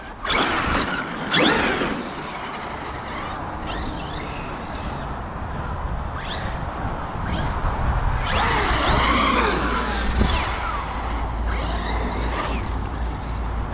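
A Traxxas X-Maxx RC monster truck with an 1100KV motor runs steadily, a dense whirring and grinding drive noise with rising whines as it accelerates.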